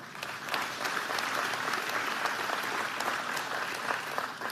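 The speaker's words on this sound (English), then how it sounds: "clapping for the agenda I want to get done." Audience applause fills a hall during a speech by the Michigan governor, a steady wash of many hands clapping with distinct individual claps, moderately loud and continuous without talk.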